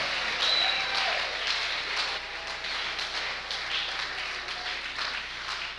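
A church congregation applauds and cheers together, a dense, steady wash of clapping and voices filling the whole stretch at close range and fairly loud.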